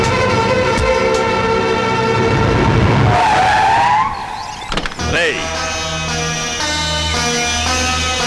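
A car in a Telugu film scene screeches to an abrupt stop, a loud tyre skid lasting a few seconds over traffic noise before a sharp thump and engine idle.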